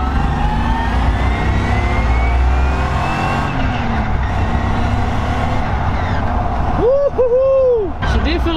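Stripped BMW E36 track car with a leaking exhaust revs and accelerates, a loud droning engine note rising in pitch under cabin noise, followed by a whooping voice near the end.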